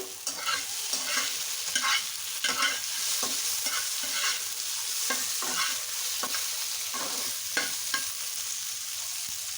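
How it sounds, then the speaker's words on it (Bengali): Cauliflower frying in a pan to a brown color and stirred now and then, a close, steady sizzle broken by repeated scraping stirs, with no voices. "এগুলোকে ব্রাউন কালার করে ভেজে নেব। মাঝে মাঝে একটু নেড়ে নেব।"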